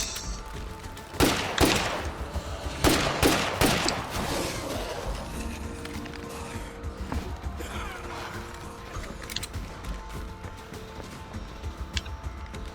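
State of Decay 2 gunfire against zombies: several sharp shots in a quick cluster early, followed by lower mechanical clatter and faint game ambience.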